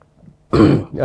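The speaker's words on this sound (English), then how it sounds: "excuse me, I've got a cough" After a near-silent moment, one harsh, close cough bursts out, followed by a short throaty rasp.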